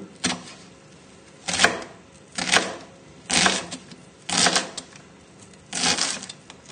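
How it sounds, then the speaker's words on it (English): A knife chops onion on a board in five distinct, evenly spaced bursts of rapid cutting, each burst a cluster of quick taps, close and moderately loud with quiet gaps between. "We're just going to finely chop the onion."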